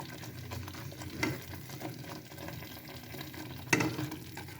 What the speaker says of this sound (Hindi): तो आप लोग देखे हैं कि हमारा खीर अभी पक रहा है, बन रहा है।